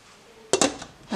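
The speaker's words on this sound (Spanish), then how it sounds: "La vamos a tapar." A lid is set onto a cooking pot holding sweet potatoes, water and piloncillo, giving a quick pair of metallic clanks followed by a softer rattle, close and brief in a quiet kitchen.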